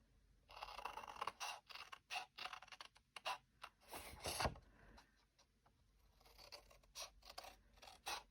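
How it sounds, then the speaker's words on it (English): Scissors snip through card stock in a rapid run of crisp, close cuts, pause briefly, then resume with another burst of short snips, no talking. "we're going to cut up to that score line. And we're going to cut on the score line."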